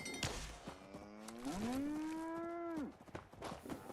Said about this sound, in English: Where's all the cows? They like to run around